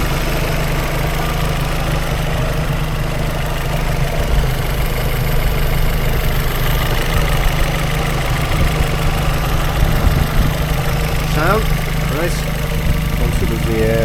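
A Vauxhall Vectra GSI with a Z20LET engine idles, a steady low rumble with an even hum that holds level the whole time, while people talk over it.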